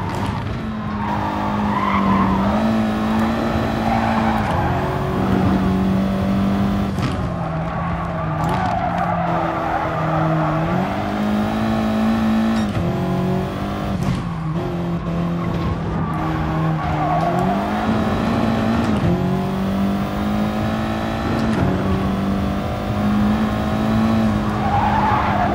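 Race cars in GT Sport lapping the Nürburgring 24h layout, among them an Audi TT Cup, a Subaru WRX and a Ferrari, with engines droning loudly and steadily and tires skidding and squealing throughout, alone without talk.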